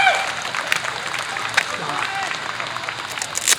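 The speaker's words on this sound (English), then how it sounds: "I don't want your pity clap." Scattered audience applause at a live juggling act during a Christian music festival, a steady wash of clapping with crowd noise and speech mixed in, fairly loud throughout.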